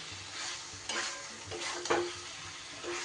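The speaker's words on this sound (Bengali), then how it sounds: "এইবার এই পর্যায়ে আমি দিয়ে দেব আগে থেকে ভেজে রাখা ভেন্ডিগুলো।" Pre-fried okra stirred into spices in a pan, with steady sizzling, scraping and several louder stirring strokes against the pan over a few seconds.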